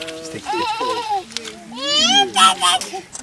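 Lambs on an organic farm bleat several times in wavering, close cries, overlapping one another, with a voice and light chatter mixed in.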